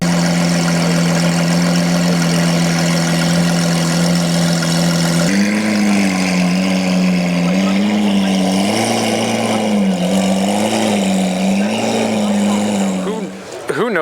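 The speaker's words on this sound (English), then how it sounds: "Just sitting here idling, it is so loud, I have to kind of talk over it." A loud sports car idles at a car show with a deep, steady rumble and a strong low hum that wavers slightly as revs bob, close and continuous, with a person talking over it partway through.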